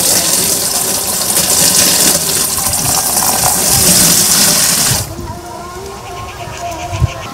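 Water gushes and splashes steadily into a container for mixing potato-crop pesticide in a field, loud and continuous for about five seconds, then cuts off, leaving quieter background with a small knock near the end.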